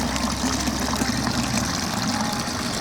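Water trickles and splashes steadily from a metal drinking fountain at Castello Sforzesco in Milan, a continuous close outdoor burble with no pauses.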